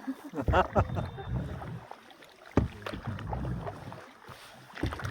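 Boat ride on water with uneven splashing and knocking from the hull, mixed with wind and intermittent voices nearby.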